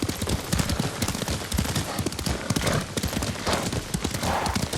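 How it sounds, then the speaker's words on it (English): Horse hooves clop rapidly in a galloping rhythm in the video game Ghost of Tsushima, close and loud, with a scattering of distant sharp bangs underneath. "Lord Sakai taught me to ride a horse."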